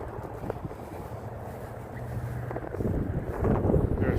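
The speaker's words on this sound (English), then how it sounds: "It's really windy today" Steady wind gusts roar across an open shooting range beside parked tanks on a sunny day, a continuous broadband rush that swells louder toward the end, with no talk.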